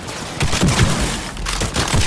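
Rapid gunfire from a pistol in the video game Cyberpunk 2077, several sharp shots in quick bursts with booming low impacts, loud and close with no talk.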